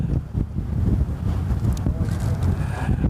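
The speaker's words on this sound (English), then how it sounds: "Very tough conditions out there at the moment. Quite blustery, quite windy," Strong, blustery wind buffets the microphone at an outdoor rowing regatta with a big cross breeze, a continuous loud low rumble with gusty swells throughout.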